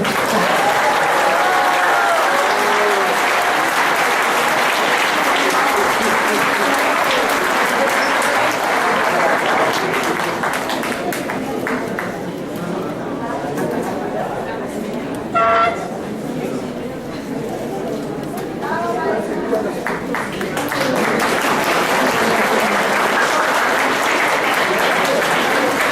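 A panel audience at a round-table event applauds a speaker, with dense, loud, continuous clapping and crowd noise that dips briefly midway before swelling again.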